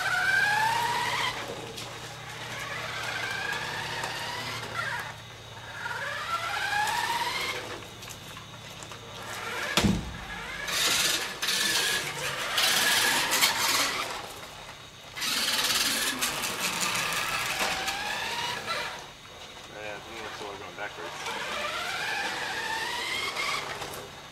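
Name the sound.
remote-controlled RC car driving and skidding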